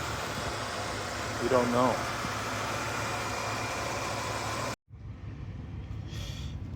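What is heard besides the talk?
old Lincoln 3.8 engine idling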